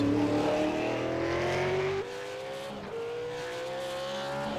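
Supercars at the Bathurst 500 race drone and rise in pitch as they accelerate, with a gear shift partway through, loud and close with a steady roar.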